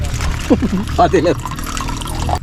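Water runs steadily into a pot, a continuous rushing hiss, while someone talks over it.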